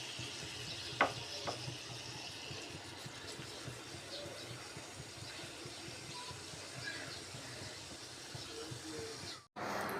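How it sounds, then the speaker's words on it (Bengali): Tilapia fish frying in hot oil for a barbecue dish, a steady close sizzling hiss running throughout with a couple of brief sharp pops early on, cutting off abruptly near the end. "যেহেতু বড় মাছ একটা করেই ভাজবো, আমি প্রথমত একটা মাছ ভেজে নেব"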